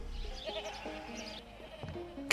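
Sheep bleat in the video game Sheep It, a few wavering cries over a soft, steady game background.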